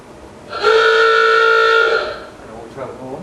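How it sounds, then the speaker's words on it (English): A Wurlitzer theatre organ's fire bell effect gives one sustained, harmonically rich ringing tone of about a second and a half, fairly loud. It stops abruptly, and faint room noise follows. "fire bell,"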